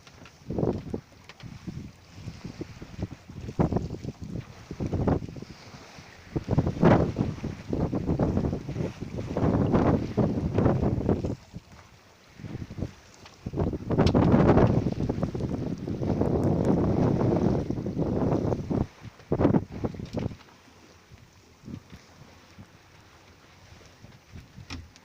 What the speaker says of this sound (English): might get a bit windy now.